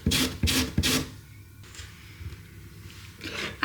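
Rasping strokes of a lemon rubbed against a metal grater, three loud scrapes in quick succession up front, then quieter scratchy grating and a final rasp.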